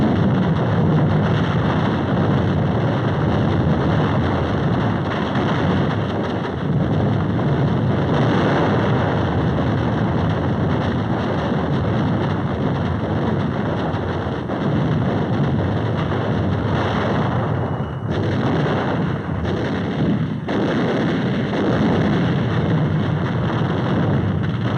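Naval gunfire from supporting ships pounds Iwo Jima in 1945, heard as a continuous loud roar of rumbling bombardment, like rolling thunder, with a few sharper blasts near the end.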